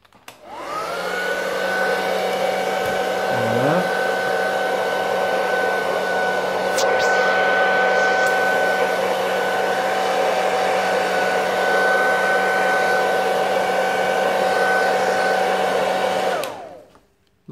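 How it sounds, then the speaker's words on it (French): A hair dryer heats the glass of a Samsung SM-G7105 phone screen, running as a loud, steady whine for about fifteen seconds before switching off, with a brief shift in pitch near the start. "il faut chauffer votre vitre avec un sèche-cheveux"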